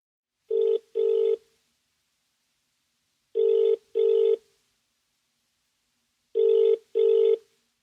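A telephone rings three times with a classic double-ring pattern, each pair of clean tonal bursts separated by silence, as Jack phones Margaret for directions.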